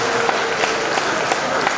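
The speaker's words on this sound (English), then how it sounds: "Please, a round of applause for him." An audience at Summit University in Offa, Nigeria, applauding the London-to-Lagos biker Kunle Adeyanju, a brief burst of dense, steady clapping from a crowd with no pauses.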